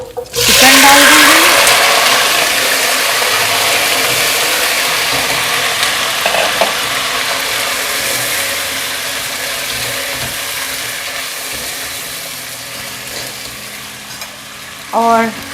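Chicken hits hot oil with whole spices and garam masala for a degi chicken korma, setting off a loud burst of sizzling that settles into steady, crackling frying, with a brief clatter near the end.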